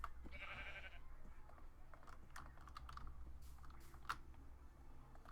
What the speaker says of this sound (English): Random white sheep. It's not even mine.